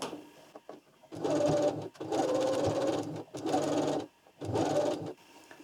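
A sewing machine stitches a seam on a lace blouse, the fabric folded to the wrong side, in four short bursts of rapid whirring separated by brief pauses, close and fairly quiet.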